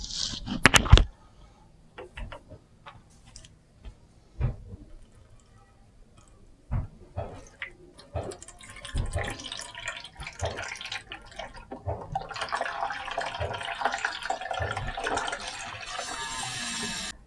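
Water trickles and splashes as it is poured into the tray of a wet-dry sharpening grinder, starting with scattered knocks and drips, then building into a steady, close pouring hiss, with no talk.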